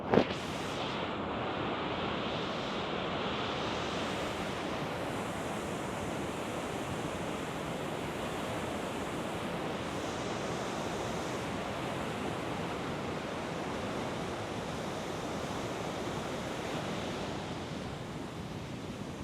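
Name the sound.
Wolf River Falls waterfall, Canada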